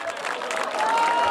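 Students lined up at a school entrance applaud and cheer for seniors leaving with their college entrance exam admission tickets, a steady burst of clapping with crowd voices building slightly toward the end.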